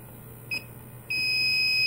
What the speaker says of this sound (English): It's pretty steady beeping.